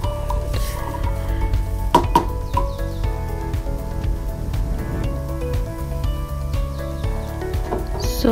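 Tomatoes simmer and get stirred in a pan, a soft sizzle and wet squishing under clinks and scrapes of the utensil against the cookware, fairly close and steady.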